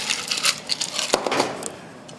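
Ice cubes clinking and rattling into a glass while a bourbon apple cocktail is being made, with a run of sharp, close clatters and jostles that thin out toward the end, no talking.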